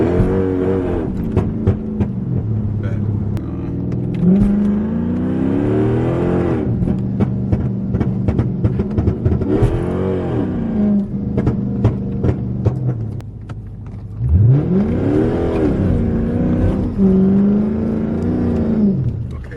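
A Dodge SRT car revs hard and slides around corners in a quiet neighborhood, its engine rising and falling in repeated loud surges, close by and with no talking.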